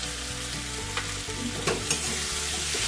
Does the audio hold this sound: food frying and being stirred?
yes